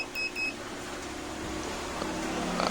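Two short electronic beeps from a multimeter continuity buzzer at the start, testing a Whirlpool microwave that won't heat, followed by a low steady hum with faint background noise.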